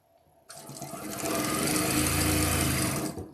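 A sewing machine stitches quilt patches together, starting abruptly and running in one steady, close, continuous burst before winding down.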